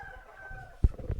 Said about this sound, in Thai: ตอนนี้ก็จะเป็น พวกไก่ ไก่ที่เรายังไม่ได้คัดครับตัวนี้ มันไก่หนุ่มเพิ่งจะเอาเข้ามาครับ